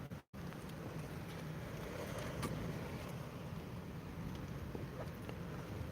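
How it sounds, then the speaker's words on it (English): Wind gusts outdoors, a steady broad rush buffeting the microphone, loud and continuous after a brief dropout at the start, with low rumble throughout. "Well, the old wind just picked up."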